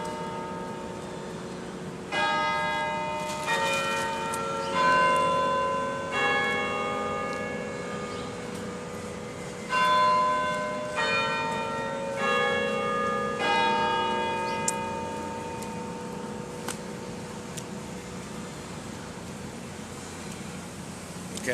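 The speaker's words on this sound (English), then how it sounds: "Sorry, we're waiting for the bells." Church bells ring out in a series of clear, resonant strikes, several overlapping tones sounding at moderate distance over a faint background hum, with decaying tails between peals and no talking.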